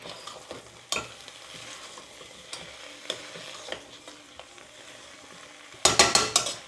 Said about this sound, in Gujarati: ધાણા પણ નાખી દીધા છે અને થોડાક આપણે ઉપરથી નાખવા માટે રહેવા દઈશું મિક્સ કરી દઈએ